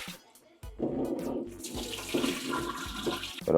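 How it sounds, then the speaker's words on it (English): Water runs steadily into a metal pressure cooker, a continuous splashing rush that starts after a brief quiet moment and carries on with slight changes in tone. "Gonna fill this up with water."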